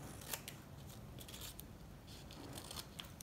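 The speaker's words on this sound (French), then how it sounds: "le petit bout qui dépasse, je le découpe" Scissors snip off a small protruding end of a craft piece, faint close crisp cuts with a few sharp clicks over a quiet hiss.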